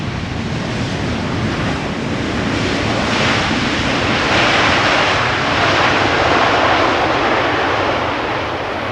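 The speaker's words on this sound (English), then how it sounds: "KLM flight 744 arriving from Lima in Peru" A KLM airliner arriving from Lima lands at Schiphol Airport with a loud, continuous jet roar that swells toward the middle and stays steady without voices.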